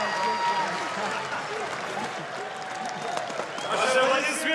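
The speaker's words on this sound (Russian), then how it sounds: "Ваши аплодисменты, друзья!" A crowd at an ACA mixed martial arts event applauding the winner of a unanimous decision, dense cheering and clapping filling the arena while an announcer speaks over it.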